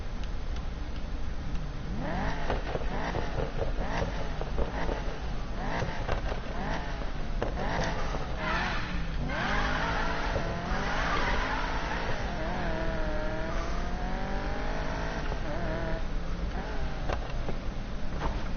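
In Need for Speed Payback, a game car drifts with a continuous loud engine roar, revs rising and falling through gear changes, with tyre squeal and no talk.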